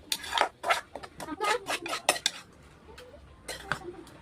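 Mashed green chillies are moved into a bowl with a rapid series of bright metal utensil clinks and scrapes, a quieter pause, then a couple more clinks close by.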